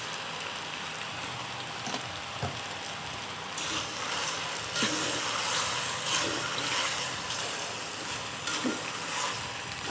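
Macaroni with vegetables, soy sauce and vinegar stir-frying in a pan, a soft steady sizzle with occasional scraping stirs, growing slightly louder midway, moderately faint and without talk.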